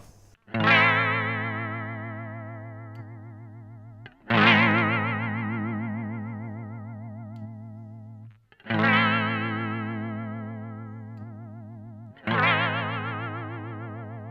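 Four sustained electric guitar notes through a Boss VB-2W vibrato pedal at high depth, each plucked and held with a deep, wobbling pitch vibrato, spaced a few seconds apart with no talking.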